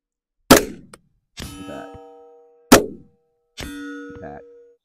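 Bullet strikes ringing off a steel target at a rifle range, two sharp metallic clangs a few seconds apart, each followed by a short fading ring, with a brief voice after each hit.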